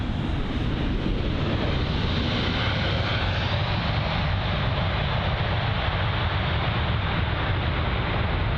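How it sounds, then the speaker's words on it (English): An American Airlines Boeing 777 taxiing at London Heathrow, a continuous broad engine roar and rumble that stays loud and steady throughout, no speech. "So the American Airlines Boeing 777 taxiing in front of us now."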